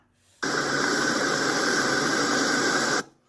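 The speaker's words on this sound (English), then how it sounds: "That sound is the sound of his air blower fighting the rain." An inflatable tube man's air blower runs in the rain, switching on abruptly into a loud, steady whooshing roar with a high whine, then cutting off about three seconds later.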